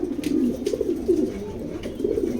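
Male long-line pigeons coo continuously at a pigeon loft, a close, steady overlapping murmur of rolling calls with no speech.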